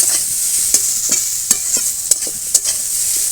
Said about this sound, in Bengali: পেঁয়াজটাও একটু ভেজে নেব। ভাজা হয়ে গেছে, সব কিছু একসঙ্গে মিশিয়ে নিলাম।